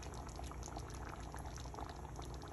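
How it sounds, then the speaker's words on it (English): Gnocchi boil in a pot of water for chicken gnocchi soup, a steady, dense bubbling and rolling that stays even throughout, close and moderately loud with no talking. "And my gnocchi, waiting for that to stop boiling."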